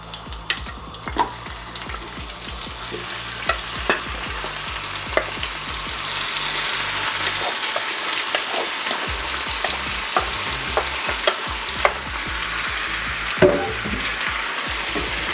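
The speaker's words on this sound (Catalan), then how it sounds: "Ara que ja comencen a saltar i l'oli ja té el gust dels alls, ja hi podem tirar les patates." Sliced potatoes sizzling and crackling in hot garlic-flavoured oil in a pan for a potato omelette, a dense steady fry broken by occasional stirring clinks and scrapes.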